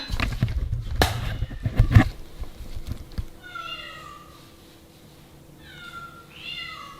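Loud knocking and clatter at the start, then two cats meow in turn, their calls overlapping slightly, at moderate volume with some background hiss.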